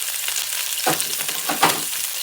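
Chicken pieces browning in a pan for a corn soup, a steady close sizzle of frying with a couple of stirring scrapes, no voices.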